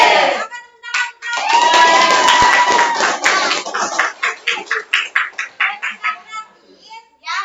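A classroom group claps together, a loud burst of mixed hand claps that settles into a rhythmic, evenly spaced patter of unison claps, with children's voices mixed in.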